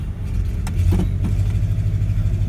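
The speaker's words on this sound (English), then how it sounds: "There goes the 67 C50 dump truck" A 1967 Chevrolet C50 dump truck pulls away, its medium engine rumbling steadily and close by with a slight rise in revs across the whole stretch, no voices heard.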